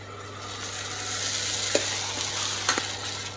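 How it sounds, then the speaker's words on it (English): Tomato puree stirred into sautéed garlic and onion gives a soft continuous sizzle with a couple of brief scraping stirs, close but fairly quiet, no voices. "Stir in the tomato puree"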